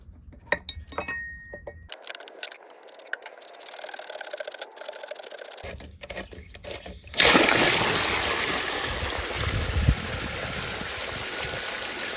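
Water gushes and splashes steadily out of a Pentair pool filter after its plastic drain plug is removed, following a few metallic clicks and clanks; the rushing flow grows loud and continuous near the end.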